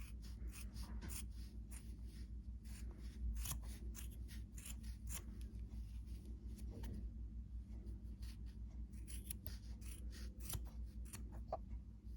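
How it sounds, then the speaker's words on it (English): Scissors snip through crochet yarn while finishing a winter hat, a series of quiet, crisp close-up cuts and rustles in a hushed room. "Now let's cut the yarn."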